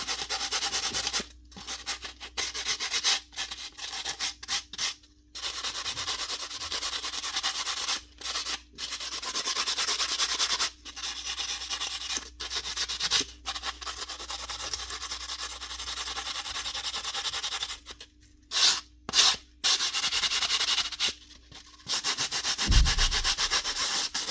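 Steady rubbing and scraping on a nail gun part as it is seated during a nailer repair, a long run of close abrasive strokes broken by frequent short pauses.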